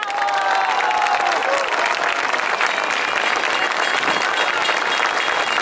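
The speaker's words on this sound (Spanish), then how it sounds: "brindemos un aplauso al movimiento Yo Soy" A large crowd at a political rally in Mexico City's Zócalo claps loudly and continuously, with a faint whistle and scattered cheers mixed into the dense, unbroken ovation.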